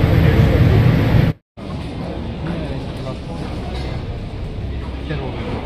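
Inside the automated passenger train at Dubai airport, a steady loud rumble of the moving car fills the ride, interrupted by one brief silent dropout before the droning resumes.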